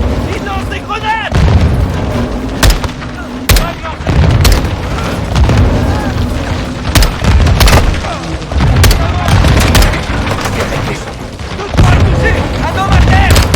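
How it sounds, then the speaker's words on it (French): Grenade explosions and bursts of gunfire in the Call of Duty MW2 campaign, repeated loud booms and sharp shots in quick succession, with shouted voices between them. "Ils lancent des grenades!"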